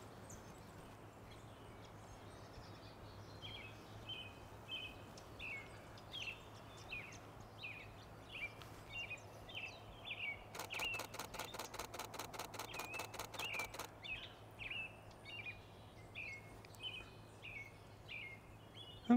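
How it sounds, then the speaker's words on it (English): Hummingbirds flit around an early-spring marsh, with repeated high chirps and a rapid ticking burst midway, all faint and outdoors with no talking. "Oh, I can hear some hummingbirds zooming around."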